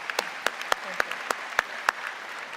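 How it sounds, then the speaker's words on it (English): A convocation audience gives scattered applause, with a few distinct claps spaced at a steady rhythm over quiet room tone and no talking. "let's give him a nice big hand of applause for all he does"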